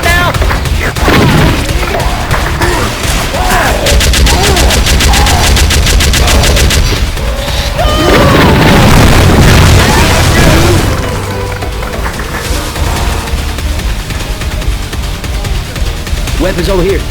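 Loud, dense gunfire from the Left 4 Dead 2 video game, in the modded Swamp Fever campaign, as players fight a Tank: rapid automatic bursts mixed with booms and crashes, with in-game voices shouting over it.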